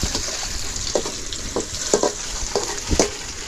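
Onions sautéing in a pan for chicken gravy, cooked outdoors in a forest, with a steady broadband sizzle and occasional louder crackles and stirring scrapes, close and alone with no talking.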